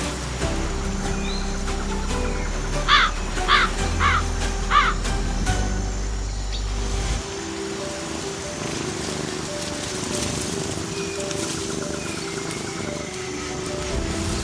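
Ravens in a German forest give four loud, evenly spaced croaking calls early on, followed by quieter forest ambience and a faint steady hum.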